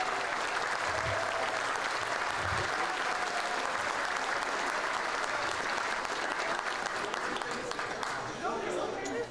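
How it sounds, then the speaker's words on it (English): Sustained applause from a large crowd at an evening arts gala honoring artists, dense and steady across the whole stretch with a few louder claps near the front, fading slightly at the end. "let's give a round of applause to our talented artists"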